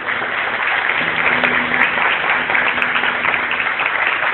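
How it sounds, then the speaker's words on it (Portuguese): A Baptist church congregation claps together in a steady, dense roar of applause that holds at a constant level throughout, loud and full, with a faint held tone sounding underneath partway through. "dar uma salva de palmas para Cristo"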